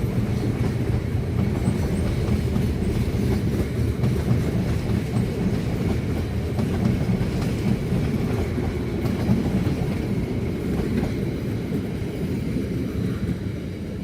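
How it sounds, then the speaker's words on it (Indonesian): The Sri Tanjung passenger train rolls past close by on its rails, a loud sustained rumble with rhythmic clickety-clack of wheels over rail joints for the whole stretch, with no voices. "Kereta api Sri Tanjung."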